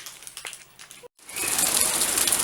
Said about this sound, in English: I didn't realize it was going to rain today